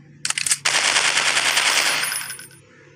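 Rapid automatic gunfire from the Dino Hunter dinosaur-hunting mobile game, a few sharp shots followed by a sustained loud burst lasting about two seconds, then fading out.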